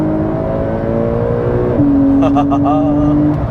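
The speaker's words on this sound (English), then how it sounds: "Those PDK shifts are fantastic as well." Porsche 911 or 718 Cayman GT4 with a PDK gearbox accelerating in Sport Plus mode, a steady loud engine note that drops pitch at a quick gearshift and then climbs again, with a brief voice in the background.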